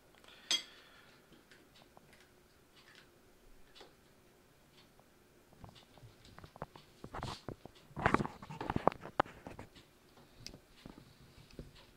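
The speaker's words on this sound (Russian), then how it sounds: "Сыр режем помельче, чтобы быстрее растворился." A knife cuts cheese into small pieces on a board for cheese soup, giving faint, scattered taps and ticks that gather into a brief cluster of quick chops.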